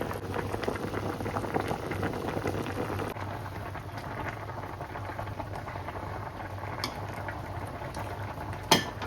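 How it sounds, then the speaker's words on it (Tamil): Pot of fish, tomato, onion and chilli boiling for an agathi-leaf sothi, a steady soft bubbling simmer with faint clinks of utensils and a single sharp tap near the end. "தக்காளி, வெங்காயம், மிளகாய், மீன் இதுதான் கொஞ்சம் அவியும்."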